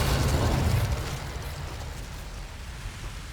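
Hogwarts Legacy fire spells go off in a loud, close explosive burst that crackles and slowly decays into a rumbling tail.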